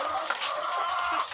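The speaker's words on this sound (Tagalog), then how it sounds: "manok na pampaitlog." Laying hens kept for eggs cluck in a steady, close-by murmur of fowl calls over a continuous farmyard background, with no clear crowing.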